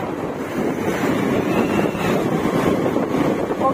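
Wind rushes steadily over the microphone while riding a motorbike outdoors near a river from Dhubri to the Phulbari bridge, a loud continuous roar with no pauses.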